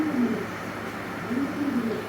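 Pigeons coo softly from nearby in a room, with low, rolling calls at the start and again near the end and a quiet pause between them.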